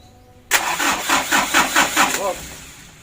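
A Bosch-pump diesel engine with an uneven-running number 1 cylinder cranks and fires into life. The loud, rhythmic chugging pulses close by and eases as it settles, with a voice briefly heard near the end.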